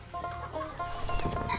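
Farm-raised laying hens cluck softly in a poultry shed, a low murmur of short, overlapping calls with one brief louder squawk.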